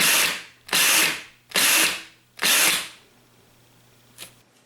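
A 1/2 inch impact wrench, Ingersoll Rand, Milwaukee or DeWalt, fires four loud hammering bursts of about a second each with short pauses between, followed by a faint click.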